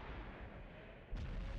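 A tank cannon fires in a World of Tanks frontline clan battle, a single deep boom that cuts in after a stretch of low rumbling ambience, fairly faint and distant.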